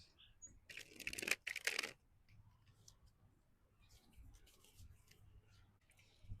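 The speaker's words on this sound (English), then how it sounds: "Let's shuffle your deck and see who your future spouse is." Tarot cards shuffled by hand in a short, crisp riffling burst near the start, followed by quieter scattered card handling and light taps.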